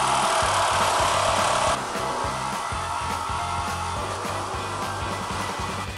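A 4-inch wood-cutting disc on an angle grinder spins with a high whine and bites into wood, the pitch dropping under load as it cuts, steady and close.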